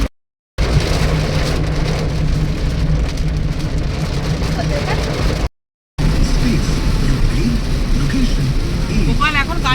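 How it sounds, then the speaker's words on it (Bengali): Heavy rain pounding on a car driving along a highway during a thunderstorm, a dense steady roar from inside the vehicle, broken by two short dropouts, with people talking over it. "এতটা জোরে বৃষ্টি হচ্ছিল আর এত বাজ পড়ছিল।"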